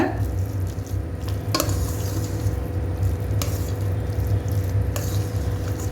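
Tempering is mixed into venpongal, a soft rice and lentil dish, with a few soft squishes and scrapes of a spoon over a steady background hum. Nobody speaks.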